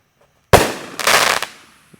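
A firework ball shell fired after the Fourth of July launches with a loud thump and hiss, then bursts in a crackling explosion that fades out over about a second, heard alone without talk.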